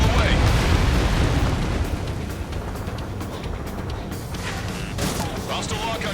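A missile launch and explosion in the flight combat game Ace Combat 7 make a loud, rumbling roar that slowly fades, with crackling bursts near the end, all heavy and dense.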